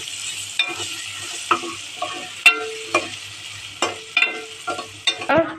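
Malvani masala, turmeric and Kashmiri red chilli powder being stirred in a pan for egg biryani: a soft sizzle under repeated scraping and clinking spoon strokes at an irregular pace, up close and without talk.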